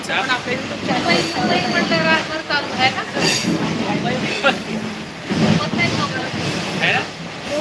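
A train rumbles and clatters along the rails in Mumbai, a steady close roar with voices talking over it throughout.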